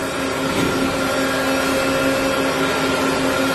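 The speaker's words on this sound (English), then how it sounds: "The CBS cleaner is amazing." CBS carpet cleaning machine working a long hallway carpet, a steady loud droning motor hum with a constant whine that continues unbroken throughout, nearby and alone.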